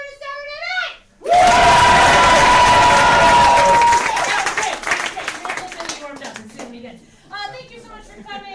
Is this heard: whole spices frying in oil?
no